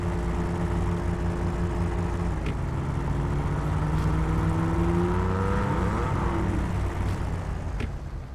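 Jeep Wrangler engine in the off-road game Snowrunner, a steady loud motor drone with rising revs and gear-like pitch shifts as the vehicle pulls away and drives, continuous throughout with no talk.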